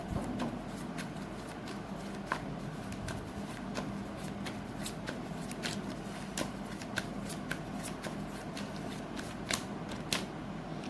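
Tarot cards being shuffled for a reading: a steady, close riffle of paper flicks and soft slaps running continuously, with no talking.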